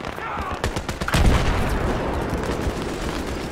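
A volley of gunfire in the video game Battlefield 3: rapid, loud shots crackling in quick succession with a heavy boom partway through, then a dense rumbling barrage.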